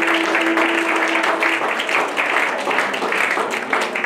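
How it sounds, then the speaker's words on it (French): A church congregation at a prophetic conference applauding and cheering, a sustained dense wash of clapping and raised voices that holds steady for several seconds, with a sung or called tone at the start. "Nous acclamons pour le Seigneur."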